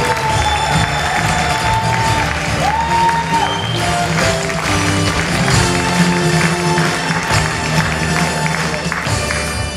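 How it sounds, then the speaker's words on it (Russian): Loud, continuous applause from a school assembly crowd at a Last Bell graduation ceremony, with cheers and whoops mixed in, several musical tones or whistles sliding through the din. "Провожаем наших выпускников бурными аплодисментами."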